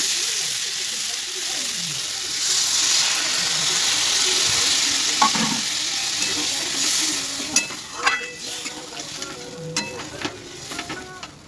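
Water poured onto fried fish curry masala with whole chillies, for a puti fish and potato dish, sets off a loud broadband sizzle that slowly settles, followed by stirring clinks and scrapes in the pan.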